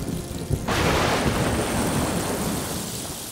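A cartoon storm bursts into a sudden, loud wash of heavy rain and rumbling thunder, starting abruptly after a brief quieter moment and roaring on steadily.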